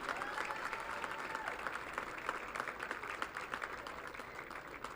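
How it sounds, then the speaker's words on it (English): Round of applause for graduating seniors at a college baseball conference awards presentation: sustained, even clapping from a crowd, fairly distant and faint, continuing without a break and with no talk over it. "please give one more round of applause for all of our graduating seniors"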